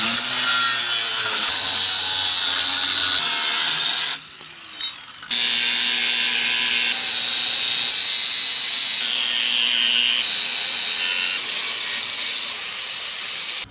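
Power tool cutting steel to repair a blown-out coupler, a loud continuous hissing grind that runs steadily, breaks off for about a second, then resumes with a generator running nearby.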